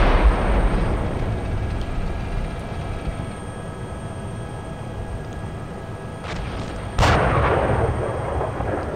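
M1A1 tank cannon firing in the Steel Beasts game, a loud boom at the start that rolls off into a long rumble, then a second sharp blast followed by a sustained roar.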